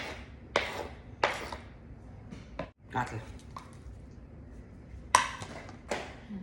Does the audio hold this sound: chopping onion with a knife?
yes